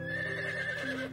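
A horse named Prince neighs loudly and close by in one drawn-out whinny that wavers in pitch and drops lower near the end.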